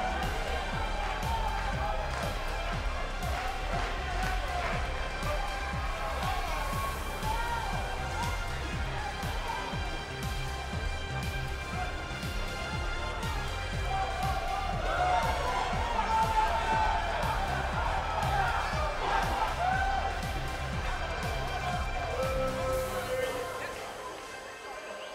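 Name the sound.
sold-out arena crowd at wrestling match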